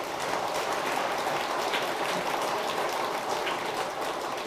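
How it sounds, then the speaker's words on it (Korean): An audience at a Sunday Buddhist temple service applauds for Korean traditional music performers, a dense even patter of many hands clapping steadily at moderate distance. "우리 국악 하시는 분들이 너무 잘했는데, 여러분 박수 한번 보내줘요."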